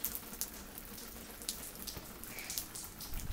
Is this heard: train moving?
no